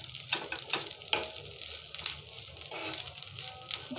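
Grated coconut and raisins fry in a pan until browning, giving a crackling sizzle with bursts of stirring and scraping, close and moderately loud, with no voices.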